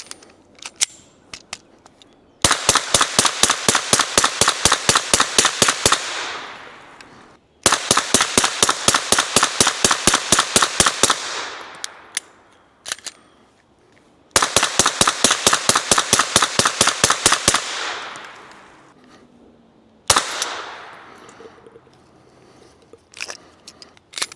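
A rifle fitted with a Silencer Central Banish 9K suppressor fires in three rapid strings of sharp, evenly spaced suppressed reports, each burst a few seconds long, with quiet gaps and a couple of single shots between.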